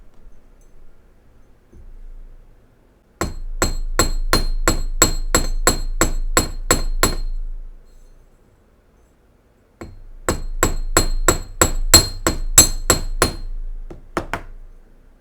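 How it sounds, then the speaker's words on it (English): Hammer striking wire for Celtic cross earrings on a hard block, a fast steady run of sharp metallic taps, a pause, then a second burst, close and loud with no talking. "Just take your time with it, hammer to your liking or not."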